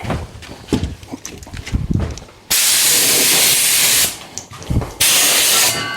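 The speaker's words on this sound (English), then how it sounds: "Just blow the dust away with the old air compressor." An old air compressor blows dust off a woodworking piece, with loud, steady hissing blasts in two bursts between quieter workshop handling noises.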